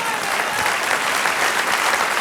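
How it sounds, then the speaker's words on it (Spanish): A congregation at a Spanish-language church service breaks into loud, dense applause, a steady wash of many hands clapping together without pause and heard up close. "Denle un aplauso, Señor."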